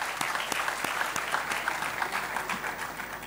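An audience at a Chitkara University 5G launch event gives a round of applause: many hands clapping steadily at moderate distance in a large hall, with no voices over it.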